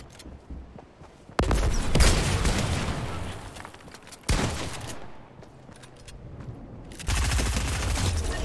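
Gunfire in the video game Fortnite comes in three loud, rapid automatic bursts, each rising sharply and trailing off between volleys.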